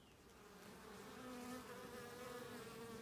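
Swarm of honey bees flying into a nuc hive box, a dense continuous buzzing drone with steady loudness throughout, close and unbroken with no talk.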